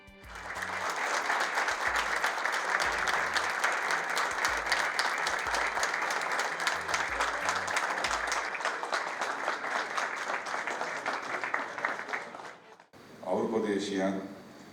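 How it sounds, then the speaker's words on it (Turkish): Steady, dense applause fills a hall as the Fenerbahçe club president enters a supporters' association meeting, sustained clapping from a large audience that stops abruptly near the end before a brief burst of talk. "Salona alkışlar eşliğinde giren Başkanımız Ali Koç"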